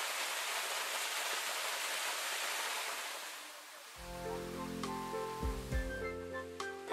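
A waterfall used for waterfall training at a mountain site in Tama roars as a steady, loud rushing wash for about four seconds before music takes over.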